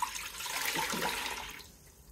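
Water is poured into the base of an air fryer, a steady splashing rush lasting about a second and a half before it quickly tapers off close to the microphone.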